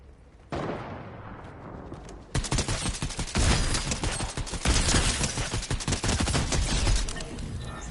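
Fortnite gunfight with charge shotguns and other weapons, a dense, loud barrage of rapid overlapping shots and blasts that starts after a brief lull and intensifies into continuous firing.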